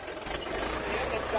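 Eicher 551 and Mahindra 575 tractors strain against each other in a tug-of-war contest. Their engines make a steady, heavy rumble under loud, excited voices.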